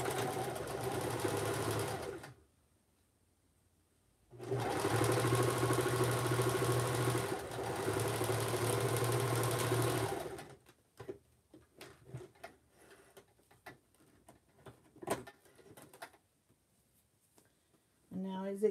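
A sewing machine running a straight stitch, loud and close, in two steady whirring bursts separated by a short pause, then scattered clicks and handling noises as it stops.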